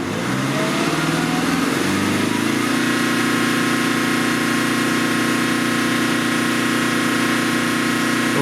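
A Mercedes diesel car engine with a fuel system fault drones loudly, revving up then holding at a higher, steady pitch with a rough, constant rumble and no voices.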